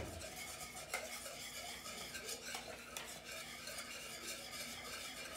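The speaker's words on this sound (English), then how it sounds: "So I'm gonna add butter to it and keep mix until the butter got" Butter being stirred into thick pastry cream for cream puffs in a saucepan, a steady scraping and sloshing stir with light utensil clinks, fairly faint and without talk.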